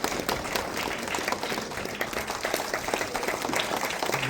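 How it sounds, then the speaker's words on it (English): A crowd applauds at a public ceremony, dense and continuous clapping held at a steady level for a few seconds with no voices over it. "big round of applause for Lavi."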